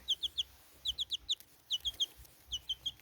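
A chicken clucks in short bursts of two or three sharp notes, repeated four times with brief pauses, close and clear over a quiet background.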